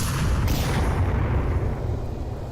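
A grenade is thrown and detonates in the VR shooter Onward, a loud, dense boom with broadband crackle that fades out over a couple of seconds amid ongoing game noise.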